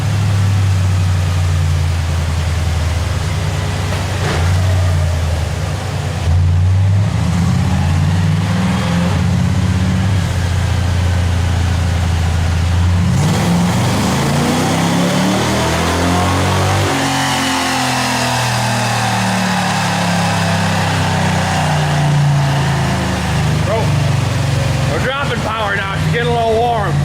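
A rear-wheel-drive Chevrolet Cavalier sleeper fed nitrous roars on a dyno, engine loud and close as it revs up through long sweeping pulls, climbing in pitch before dropping off, with voices talking over it.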